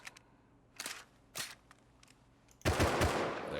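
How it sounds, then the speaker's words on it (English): Gun reload in the survival game Rust: a few sharp metallic clicks and clacks spaced apart, followed by a louder, fuller mechanical clatter near the end, all close and with no talk. "Go ahead and pop a reload on it"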